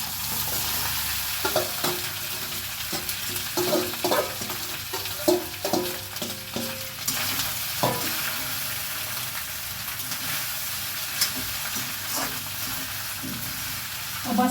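Potatoes frying in hot oil in a home kitchen pan with green chillies, a steady sizzle broken by clattering scrapes and stirs of a spoon against the pan, fairly close, with no voices.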